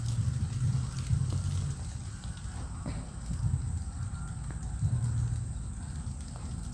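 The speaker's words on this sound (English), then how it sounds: "Is it really raining? No. Hang on a minute. No way. It's raining." Rain falling outdoors during an open-air podcast recording, a steady close patter with rhythmic thudding drops throughout and no talking.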